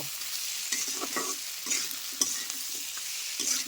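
Egg curry masala of onion, garlic and potato with salt being sautéed in a pan, a continuous sizzle broken by repeated scraping strokes of a spoon, close and fairly loud, with no voices.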